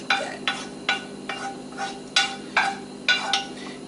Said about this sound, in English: So now we put the mushrooms with the onions in there just like that.